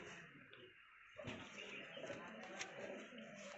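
A chena Chapra pigeon coos softly nearby, with low throaty murmurs and faint rustling.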